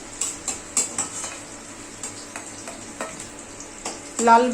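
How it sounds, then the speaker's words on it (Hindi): Potatoes fry in oil with a light crackle, broken by a series of soft scraping and tapping stirs and a short metallic clatter at the end. "ये आलू है, आलू फ्राई हो चुका है, लाल हो गया है।"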